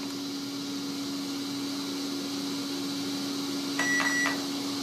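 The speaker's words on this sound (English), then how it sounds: "We got the two beeps, then we're going to let go of it" Over a steady motor hum, a short sequence of three quick electronic speed controller calibration beeps sounds, close and clear.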